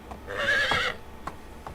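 A horse in the medieval life-sim game Medieval Dynasty lets out a clear whinny lasting under a second, followed by a couple of soft hoof clops against a quiet background.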